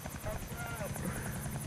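Fancy helicopters in a video game whir with a steady, rapid rotor chop throughout, fairly faint and heard under two players' talk.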